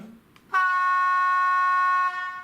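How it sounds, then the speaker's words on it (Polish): A steady, sustained low-tone model train horn with a rich harmonic buzz begins abruptly and holds for about a second and a half before cutting off, alone and fairly close. "to jest niskotonowa trąbka"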